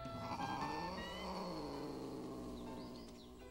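A cat lets out a drawn-out, wavering caterwaul lasting several seconds, fairly faint and alone with no talk, its pitch sliding and slowly fading toward the end.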